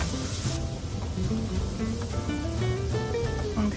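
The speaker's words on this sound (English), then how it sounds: "Now I'm just gonna cook this onion until it softens" Chopped onion sizzling steadily in a hot pan with bacon pieces, a dense continuous frying hiss that stays close and even for the whole stretch, with no voices over it.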